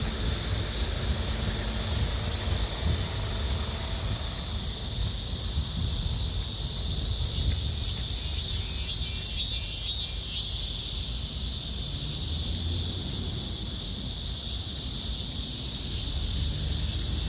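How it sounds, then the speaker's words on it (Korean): A constant, high-pitched droning buzz of cicadas in a park in Seoknam-dong fills the air, loud and unbroken, over a low rumble of outdoor background noise. "매미 소리가 시끄러우니까"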